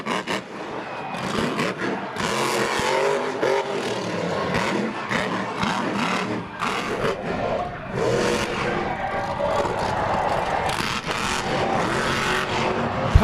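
The Giant Lobster monster truck roars in a race at Charlotte Motor Speedway, its engine a dense, continuous, loud rumble with surging revs, mixed with crowd and arena noise throughout.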